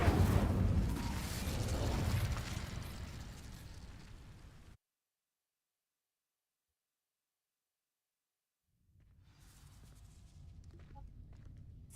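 Incendio fire spell cast in Hogwarts Legacy, a loud roaring whoosh of flame that fades out into silence, followed by a quieter rumbling burst.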